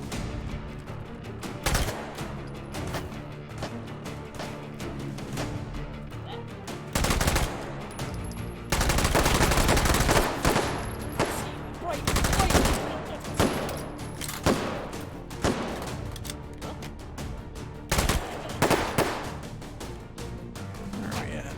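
Gunfire in the VR shooter H3VR empties a whole magazine: long and short bursts of rapid automatic shots come in clusters over about twenty seconds, loud and close, with pauses between volleys.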